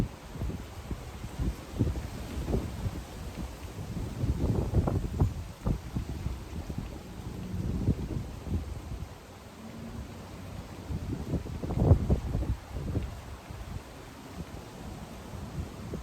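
Breeze gusting outdoors on a sunny day as snow melts, a steady low rumble of wind buffeting the microphone that swells and eases in waves, with a light rustle.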